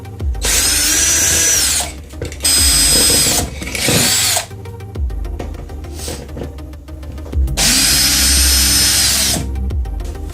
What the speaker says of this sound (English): next you want to take your actual mounting screws out